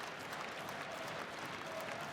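A wrestling crowd at a Maple Leaf Pro show in Toronto applauds and cheers, a dense, steady wash of clapping and voices filling the arena without pause.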